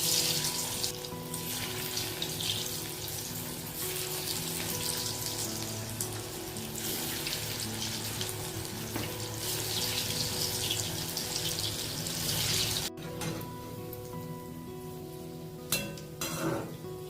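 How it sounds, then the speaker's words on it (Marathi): Cabbage vadis fry in oil over medium heat, a dense, steady sizzle that runs for most of the stretch, then thins out after a sudden break, leaving a few scattered crackles and clinks. "ह्या वड्या मीडियम आचेवर फ्राय करून घ्यायच्या"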